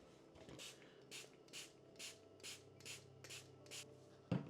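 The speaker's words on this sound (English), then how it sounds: "so I'm just going to use this pump sprayer" Hand pump sprayer misting in short bursts, about ten evenly spaced hissing sprays, quiet and close, ending with a sharp handling knock.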